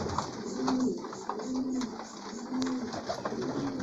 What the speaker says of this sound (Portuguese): Tratamento da pombada.